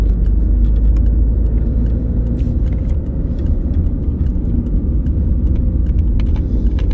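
A car accelerates steadily during a driving lesson, its engine giving a loud, continuous low rumble for several seconds with faint rattles and clicks from the cabin and no talking.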